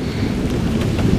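A close thunderstorm in woods brings a loud, steady roar of wind and rain with low rumbling underneath, dense and continuous without a break.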